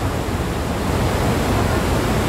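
Water rushes in a continuous, loud broadband wash, steady and close with no breaks, and no voices over it.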